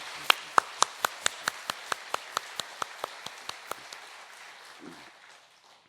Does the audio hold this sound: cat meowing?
no